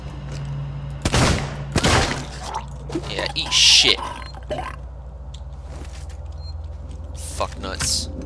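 Two sharp gunshots ring out about a second apart from a weapon in an Alien video game, followed by scattered lighter clicks and a steady low hum, with someone talking over the scene.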